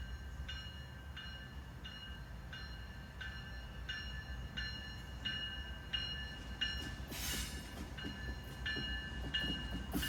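CSX freight train passing the Latonia Avenue crossing in Northern Kentucky at night in a no-horn zone, with a crossing bell dinging steadily, rumbling cars and loud bursts of wheel squeal.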